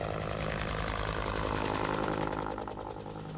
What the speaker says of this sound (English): The sound of helicopter blades cutting through the air has become a familiar sound for Manitoba residents